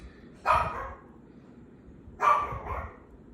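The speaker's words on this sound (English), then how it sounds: "I got the window open and everything he hears, he got to bark at it." A small pooch of about eight pounds barks indoors near an open window, giving two sharp yapping barks about two seconds apart. The barks sit in the background over steady room noise.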